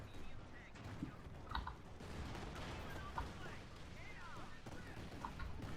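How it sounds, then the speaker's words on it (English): Artillery shells and gunfire from a Company of Heroes 2 battle, American faction, crack and boom repeatedly in quick succession beneath an excited voice talking over the action. "Oh my God, the artillery."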